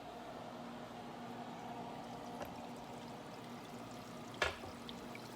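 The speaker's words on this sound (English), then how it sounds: "that water should be coming down like a waterfall" Water pouring from an aquarium filter outlet into a fish tank, a faint steady trickle with a brief splash or knock near the end.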